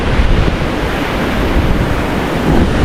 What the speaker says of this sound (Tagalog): sobrang lakas ng hangin po